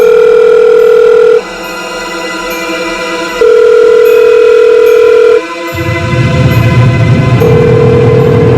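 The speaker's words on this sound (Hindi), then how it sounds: "जितेंद्र फोन नहीं उठा रहा।" A telephone ring tone repeats in long electronic bursts with pauses between, ringing on without being picked up, ending in a rougher noisy stretch.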